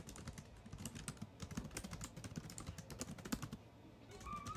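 Keys clatter in quick irregular bursts on a computer keyboard while a heading is written, close and fairly quiet, with no talking.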